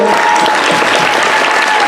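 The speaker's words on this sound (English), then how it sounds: "So I just want everyone to get up and clap for Briana, Wayward Sister, the cast and the" Audience applause for the cast and crew at the end of a stage show, a dense, steady wash of clapping from a large crowd filling the whole moment without a break.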